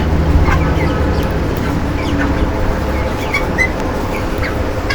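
Broiler chickens, about 24 days old, cluck and murmur in a crowded poultry shed during intense heat, a steady dense flock din with scattered higher calls over a constant low hum.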